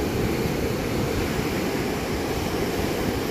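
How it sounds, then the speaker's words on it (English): Ocean waves washing beneath a pier on an overcast day make a steady, loud broadband roar with constant low rumble and no distinct breaks, wind-like and continuous throughout. "The waves are a little bit smaller than yesterday."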